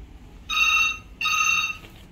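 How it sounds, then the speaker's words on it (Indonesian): A hotel room telephone at the Swiss-Belhotel in Balikpapan rings in two clear electronic bursts with a short pause between, close and loud in a quiet room. "Ada telepon guys, bentar gua angkat dulu ya."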